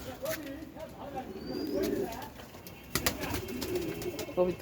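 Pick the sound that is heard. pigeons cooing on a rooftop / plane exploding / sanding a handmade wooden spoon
pigeons cooing on a rooftop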